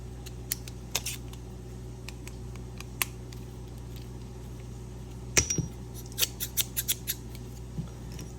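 Fiskars sewing scissors snipping open and shut in a quick cluster of sharp metallic clicks, a few isolated snips first and then a rapid run of cuts, close and moderately loud over a quiet hum.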